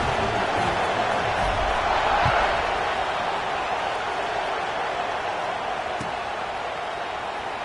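A stadium crowd at a Nebraska versus USC football game roars before the kickoff, a steady, broad wall of cheering that swells slightly and then holds constant throughout.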